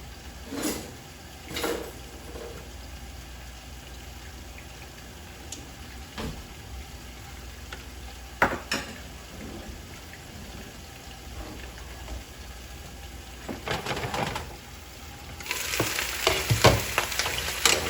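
Turkey necks fry and brown in a pan with a steady sizzle, broken by a few sharp pops and utensil clatters, and the frying swells louder near the end.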